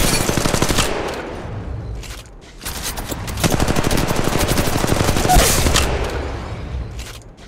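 Rapid automatic gunfire from Apex Legends Mobile, with dense bursts of shots running through most of the stretch, a short lull near the middle, then sustained loud firing again.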